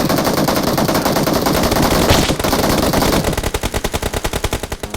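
Gunfire in a shooting video game pours out as loud, sustained automatic bursts that blur together, then settle into a fast, distinct rat-a-tat of individual shots toward the end.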